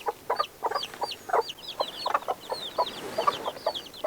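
A three-day-old chick peeps repeatedly in rapid, high chirps, close and clear against a quiet background, with no talking.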